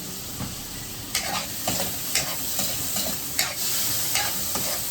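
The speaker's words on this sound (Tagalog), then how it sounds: "Haluin natin." Garlic fried rice with a splash of soy sauce is stirred in a frying pan, giving a continuous close sizzle punctuated by regular spatula scrapes roughly every half second to second.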